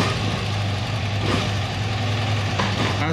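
A classic BMW two-valve boxer motorcycle propped on its stand runs in first gear with the rear wheel spinning, giving a steady, loud, continuous engine drone throughout.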